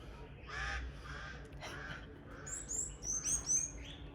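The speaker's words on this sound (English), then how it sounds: "I'm out here enjoying the birds." Birds call outdoors in Brusubi, the Gambia: harsh crow-like caws come first, then a run of bright, quick chirps and whistles, all moderately close over a soft open-air background.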